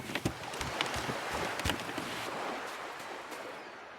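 Ocean waves wash steadily in the video game Beyond The Edge Of Owlsgard: a soft, continuous surf hiss with a few brief splashy accents, and no talking.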